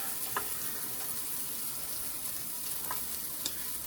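Vegetables sweating in a pot on the stove, giving a steady, even sizzle with occasional light crackles and stirring clinks, close and continuous.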